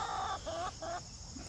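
Chickens, among them black Jersey Giant roosters, give short clucking calls in three quick phrases, fairly faint against a steady outdoor hum.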